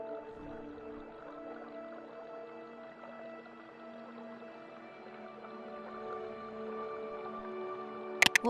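Whale calls in the underwater video game Beyond Blue: long, sustained tonal moans with layered harmonics drone steadily for several seconds, ending in a few sharp clicks.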